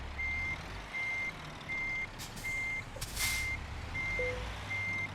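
Reversing alarm of a truck in Euro Truck Simulator 2, a steady series of about seven evenly spaced beeps over low engine rumble, with a short hiss of air brakes midway.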